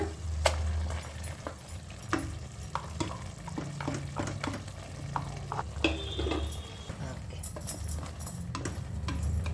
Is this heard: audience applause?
no